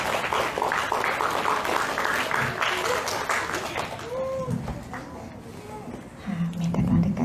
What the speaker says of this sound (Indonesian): Bagi tepukan sikit